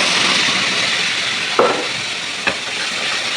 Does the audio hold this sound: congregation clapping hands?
no